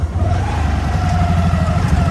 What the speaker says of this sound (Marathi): हे बघा आता आम्ही गाडी लावतो